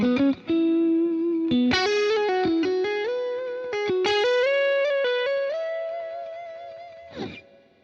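A sustained electric guitar melody through a Boss GX-100 multi-effects preset with no compressor, sounding compressed, thick and slightly distorted with chorus-like shimmer, notes ringing and gliding, fading before a brief scrape.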